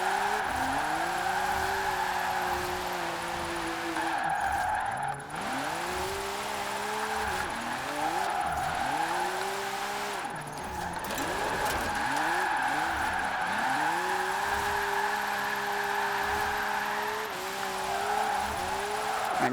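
Formula Drift Nissan 370Z drifting in Forza Horizon, a loud revving engine rising and falling with long screeching tire squeals, repeated through several slides with brief gear-change dips.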